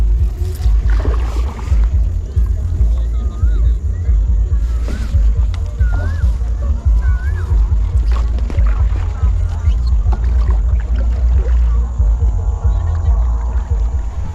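Kayak paddling on a reservoir while fishing, with steady low water and hull noise throughout, intermittent paddle splashes and knocks, and people talking nearby.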